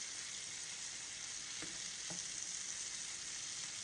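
Pork chops sizzle in butter in a pan while being basted, a steady close frying hiss running throughout with two brief clinks of a utensil partway through.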